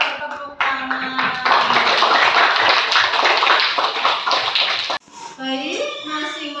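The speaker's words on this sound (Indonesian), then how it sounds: "Kita tepuk tangan." A classroom group bursts into hand clapping for several seconds, with voices and children's chatter mixed in before and after.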